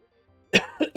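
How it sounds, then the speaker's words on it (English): A person gives a short burst of close, dry coughs, two or three quick barks after a moment of near silence. "So you'll hear me cough a little bit."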